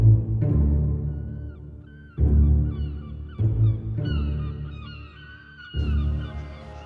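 Seagulls in Rome call loudly and close by, with repeated harsh, honking cries in several long bursts separated by brief pauses.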